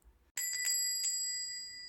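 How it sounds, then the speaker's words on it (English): A shop door bell rings once with a bright metallic jangle, a few quick overlapping strikes that ring on and slowly fade, alone in a quiet room. "The bell jangled on the door, but there was no one about."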